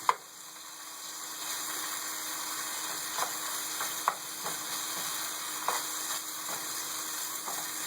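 Carnitas meat fries uncovered in a pan with a steady, close sizzle, broken by a few sharp pops and utensil taps and no voices.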